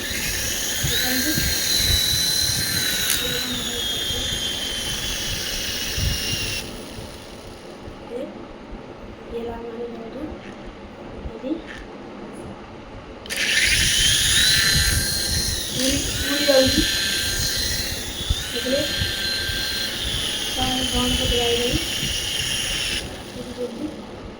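A helicopter with a loud, high whirring whine that cuts out partway through and then starts up again, over a steady background rumble with people talking.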